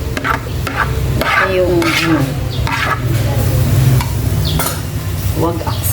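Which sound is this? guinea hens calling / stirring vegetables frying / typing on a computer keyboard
stirring vegetables frying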